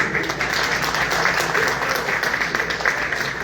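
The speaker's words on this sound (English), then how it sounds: "So a round of applause for Mike Strachan." Audience applause for a leader at an Imagine Surrey community gathering, a steady dense wash of clapping holding at even loudness throughout with no break.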